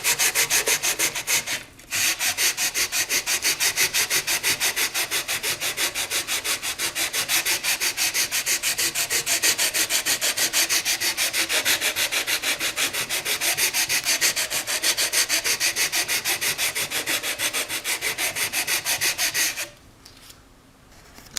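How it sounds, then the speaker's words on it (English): Guitar frets sanded with a fret leveler along the neck, rapid rhythmic back-and-forth rasping strokes, close and steady, with a short pause near the start and the strokes stopping near the end. "I'm going to do a little bit more sanding here to remove that black"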